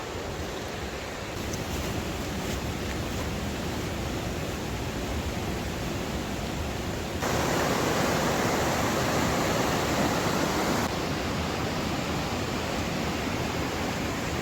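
The River Coe rushes steadily beneath a bridge in Glencoe, Scotland, in winter, a continuous broadband roar of flowing water that swells louder for a few seconds midway, with no voices.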